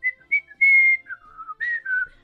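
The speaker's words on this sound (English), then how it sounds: "the microphone can now pick up me whistling" A person whistles a short, wavering tune close to a microphone, several distinct phrases with brief pauses between them, clear and alone with no other sounds.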